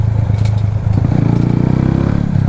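A Supra 250 motorcycle's engine braking on a wet road, a close, loud, pulsing rumble with rapid firing beats and some clatter as the engine slows the bike.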